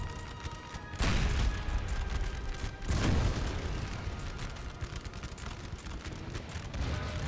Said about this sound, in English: having some rather big explosions going off around them